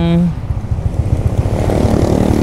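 A Yamaha Aerox scooter engine idles with a steady low, pulsing putter, close by, while a voice talks over it throughout.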